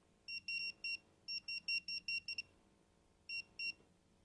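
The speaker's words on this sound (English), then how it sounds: "I'm going to block the sample. It's going to alarm to let me know that I've had a failure" A portable air monitor alarms after its sample inlet is blocked, sounding bursts of sharp electronic beeps in quick clusters with short gaps, moderately loud and close, with no voices.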